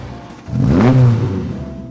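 A Honda S600 with a 600cc double overhead cam, chain-driven engine revs once, rising and falling over about a second and a half, close and fairly loud with no talk.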